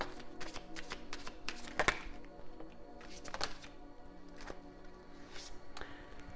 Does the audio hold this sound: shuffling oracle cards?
yes